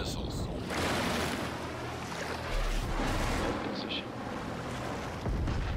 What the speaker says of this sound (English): Sub is surfacing.